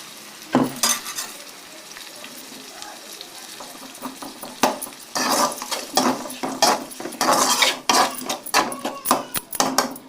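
Ground tomato poured into a hot pan for kola fish curry and stirred, giving a sizzling splash followed by repeated scraping and clattering of a spoon against the pan, growing busier toward the end.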